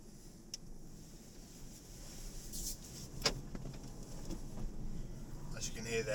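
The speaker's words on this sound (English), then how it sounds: "As you can hear there, it just auto locked." Inside a moving 2018 Dacia Duster, a brief mechanical clunk of the doors automatically locking cuts through a quiet, low road rumble.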